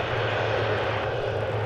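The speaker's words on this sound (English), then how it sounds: "I hear a plane approaching us. You may hear it too." American Airlines flight 2600 approaching at DFW Airport, a steady, fairly loud engine drone with a low hum underneath, no talk.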